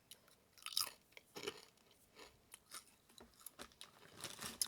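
Close, crunchy chewing of salsa picante Doritos chips, with irregular crisp bites and mouth noises in an otherwise quiet setting.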